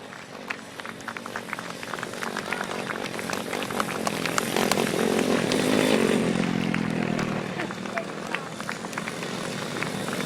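Small-engined GT140 class grasstrack motorcycles racing on a big track, a high buzzing engine whine that swells loudly as bikes pass and fades, with someone talking over it throughout.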